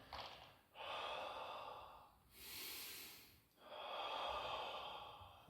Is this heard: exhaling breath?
yes